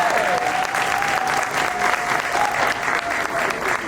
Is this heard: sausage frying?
no